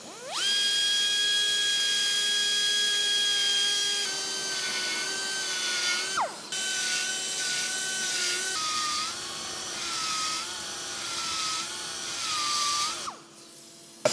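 A high-pitched power grinder whines steadily while grinding an edge on an engine part during a 383 stroker kit fit, in several sustained passes with brief pitch drops between them, fairly close.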